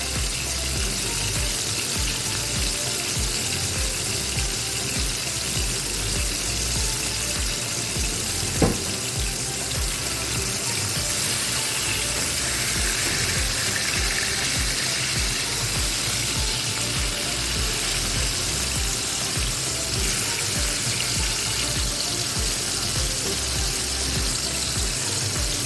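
A beef patty for a homemade double cheeseburger fries in a pan, giving a steady, even hiss that runs throughout, broken by a single sharp click partway through.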